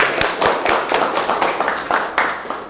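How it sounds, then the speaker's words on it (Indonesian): Students in a classroom clap their hands in a quick, steady rhythm of sharp, moderately loud claps, a short round of unison clapping without talk. "Oke, tepuk tangan dulu."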